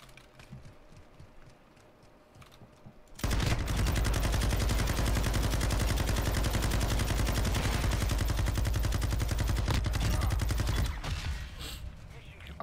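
Sustained Negev machine gun fire in CS:GO, a dense, rapid stream of shots running about eight seconds at close range, loud and steady after a quieter stretch of faint background sounds.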